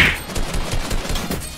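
Rapid gunfire from a Fortnite 1vs1 match, a quick string of loud shots close up over a steady game backdrop, with no talking.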